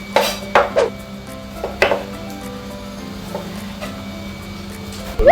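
A knife chopping on a cutting board during preparation of shallots and lime for a grilled beef dish, heard as several sharp close knocks in uneven bursts over a steady low background hum, with no talk.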